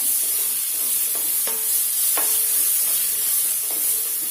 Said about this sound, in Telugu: ఈ రెండు కలిపేసి వేయించుకోండి